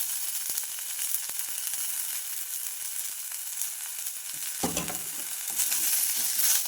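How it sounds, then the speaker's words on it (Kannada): Coconut, urad dal, cumin, green chili and coriander fry in a pan for temple-style pumpkin sambar, a steady close sizzle with a louder crackling burst midway as ingredients are stirred. "ಕಾಯಿ, ಉದ್ದಿನಬೇಳೆ, ಜೀರಿಗೆ, ಹಸಿಮೆಣಸಿನ್ಕಾಯಿ, ಕೊತ್ತಂಬರಿ ಫ್ರೈ ಆಗುತ್ತೆ"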